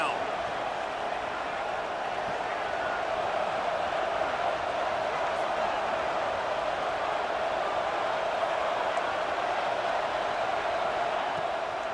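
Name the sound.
stadium crowd noise in video game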